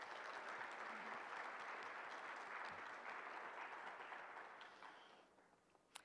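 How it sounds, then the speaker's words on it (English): Audience applause at an evening lecture event, a steady broad wash of clapping that holds loud for several seconds, then thins and fades toward the end with a last lone clap. "Can we have a round of applause for all our sponsors?"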